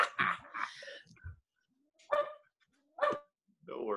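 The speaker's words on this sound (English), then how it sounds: "my dog is barking" A dog outdoors gives a few separate sharp barks, spaced about a second apart, at moderate distance between stretches of quiet and a person talking.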